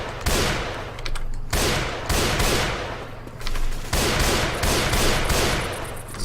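Video game gunfire in rapid sustained automatic bursts, loud and close, with brief pauses between long volleys throughout.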